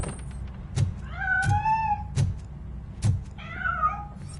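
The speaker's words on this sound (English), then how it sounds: "That cat must be hiding inside." A cat meows repeatedly in the RoboCop video game, three or four drawn-out mid-pitched cries spaced across a few seconds, each near and clear over a low hum, with soft thuds between them.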